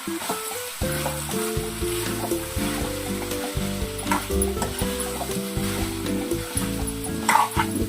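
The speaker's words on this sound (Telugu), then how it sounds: "ఒక 2 నిమిషాలు ఇంకా కొంచెం ఫ్రై అవనివ్వండి" Chicken fry sizzles steadily in a pan, with a continuous crackling hiss under strong, sustained tonal sounds that shift in steps throughout.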